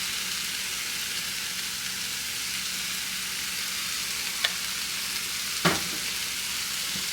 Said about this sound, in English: Mix that in just kind of loosely.